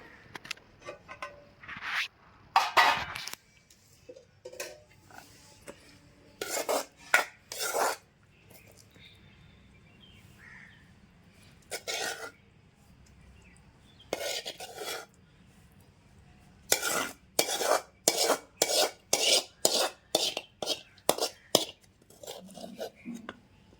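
Tomato chutney being ground by hand in a stone mortar (rolu) in a home kitchen, with repeated rasping, scraping strokes in uneven bursts, some quick rhythmic runs near the end, close and fairly quiet.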